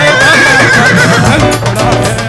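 Horse neigh sound effect set into a Hindi devotional song about Khatu Shyam, the whinny rising over loud music with a faint hoof clip-clop in the mix.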